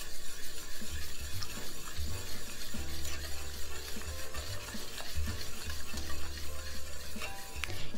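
A spoon stirs chocolate Maria cookie atole in a pot, a continuous soft swishing and scraping with faint liquid bubbling, steady and close throughout.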